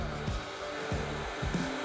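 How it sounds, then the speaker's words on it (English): A heat gun blows a steady, loud hot-air roar over white and grey countertop epoxy on a board, a continuous close whine with faint rhythmic knocks underneath. "it's a little bit harder to move it on the board with something like a heat gun, which I'm doing now"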